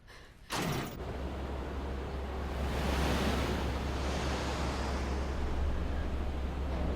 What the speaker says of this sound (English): That sluice changed the direction of the water